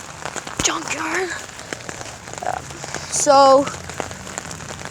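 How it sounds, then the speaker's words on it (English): Rain falls steadily outdoors near a junkyard, a soft continuous patter heard under a man's speech, with a brief whistled tone partway through. "gosh, it's raining"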